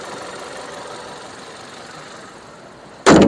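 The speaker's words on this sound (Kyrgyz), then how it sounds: "Бирок мотор ровно иштеп турат." A turbocharged 1.2 Skoda Octavia petrol engine idles steadily at close range with a low, even hum, and a sudden loud burst of noise cuts in at the very end.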